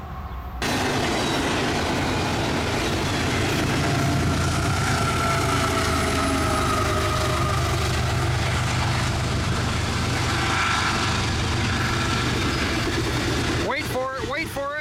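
A CSX Q166 freight train with distributed power units passes at close range. A loud, steady rumble and rail clatter runs for about fifteen seconds, then cuts off abruptly near the end, where a few brief chirping tones appear.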